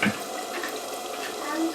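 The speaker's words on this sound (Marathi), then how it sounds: "आता ह्याच्यात नंतर पाणी घालून तेच पाणी टाकते" Water poured into a pan of egg curry masala, a brief splashing pour heard up close and fairly steady for under two seconds, with no talk over it.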